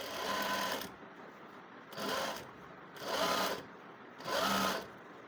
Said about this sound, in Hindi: और साथ ही साथ मैं एक सिलाई इसके ऊपर और लगा लेती हूँ